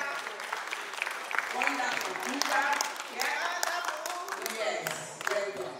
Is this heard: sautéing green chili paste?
no